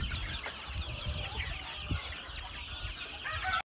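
Chickens and roosters clucking inside a coop, part of a flock of forty hens and five roosters kept as egg-laying breeders; steady overlapping clucks and calls close by, with no talk.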